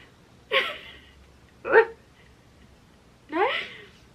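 A dog gives three short, separate vocalizations spaced a second or more apart, mixing yips and whimpering barks, fairly close but modest in volume over a quiet room.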